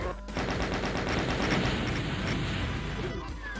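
Heavy continuous weapon fire and explosive booms from the Doom shooter, rockets fired at Barons, a dense, loud barrage filling nearly the whole stretch with little letup before it briefly thins at the end.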